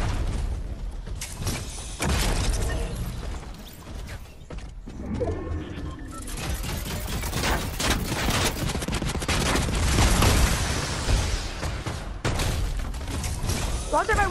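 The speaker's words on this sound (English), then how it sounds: "Why does everybody want to shoot at us?" Video game gunfire rattles amid mechanical clanks and creaks from a combat mech, with rapid bursts and shots layered densely for the whole stretch while people talk over it.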